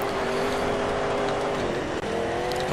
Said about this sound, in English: Oh, this buggy is so much quicker off the line.